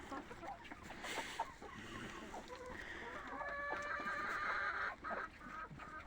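A hen clucks repeatedly at a farm in winter, close and moderately loud, with someone speaking throughout and other poultry sounds around it.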